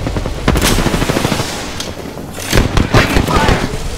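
Rapid automatic gunfire in the video game Apex Legends crackles in dense bursts, loud and close, with short gaps between volleys and voices talking over the action.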